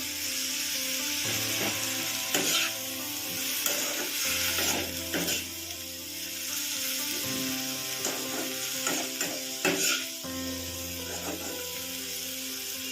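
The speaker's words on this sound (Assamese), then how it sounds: "তাৰপিছত মই এনেকৈ লৰাই দিম।" A spoon stirs chutney made from bottle gourd skin in a pan while it fries. Scraping and clinking strokes come in clusters over a continuous sizzle, with a steady low hum underneath.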